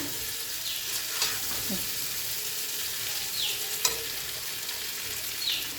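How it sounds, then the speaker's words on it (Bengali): Boiled potatoes and yardlong beans stir-fry in a pan until browned: a constant close sizzle punctuated by a few spatula scrapes and clicks, with no speech. "একদম লাল লাল করে ভেজে নেবো আলুটাকে"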